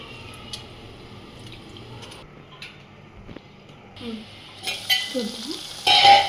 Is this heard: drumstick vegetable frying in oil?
yes